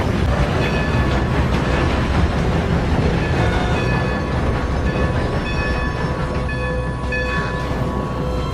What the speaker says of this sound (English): As the train stops